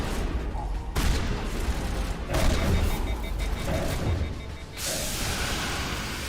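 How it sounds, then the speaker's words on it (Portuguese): Rapid gunfire bursts and booms from a space video game fill the clip continuously, dense and loud, with someone talking over the shooting. "Vai levar tiro nas costas."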